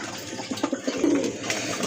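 Pigeons in a Bengali pigeon seller's collection coo in a short series of low, soft, rounded calls, fairly close, with steady background noise.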